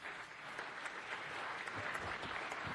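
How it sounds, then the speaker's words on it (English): At a city council meeting, a room gives the city clerk a round of applause, a continuous faint wash of many hands clapping without a break. "Let's give June Lagnay a great round of applause"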